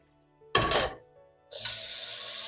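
Tap water gushes briefly into a food processor being rinsed, stops, then runs again in a steady, loud stream into the bowl at a kitchen sink.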